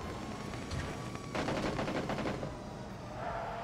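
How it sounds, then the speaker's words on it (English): Machine gun fire from an MG3 in New State, a short rapid burst of fairly quiet gunshots lasting about a second, heard at moderate distance over ambient game noise. "I literally found an MG3."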